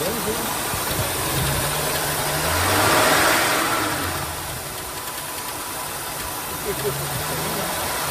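AMC Jeep engine with low oil pressure and rattling at idle, running steadily then revving briefly and settling back to idle, heard close with talking over it.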